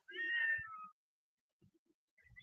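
A barn cat on a farm gives one loud, drawn-out meow close by, followed by faint scuffling and low rustles near the end.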